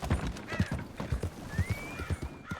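A horse in Red Dead Redemption 2 gallops with rhythmic thudding hoofbeats, while a high whistling whinny rises through the middle of the run.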